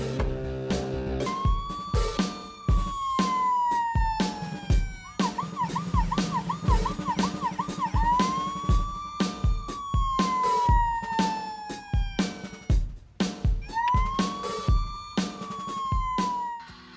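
A Bruder toy ambulance's electronic siren wails close by in repeated rising and falling sweeps, switching briefly to a fast yelp pattern midway, over a background of rapid clicking and handling noises.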